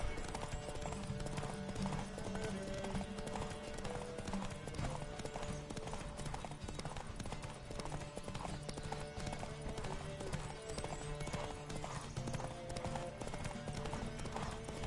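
A horse gallops in The Witcher video game, with steady rapid hoofbeats continuing throughout at moderate loudness, accompanied by occasional faint voices.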